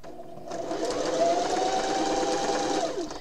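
A sewing machine runs a steady straight stitch at 2.5 length through a quilt block, starting after a short pause and whirring continuously close by for about two and a half seconds before stopping.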